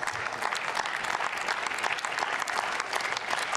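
Members of the German Bundestag applaud during a debate on the Warburg Bank inquiry committee, a dense, steady clatter of many hands clapping together with no break in the chamber.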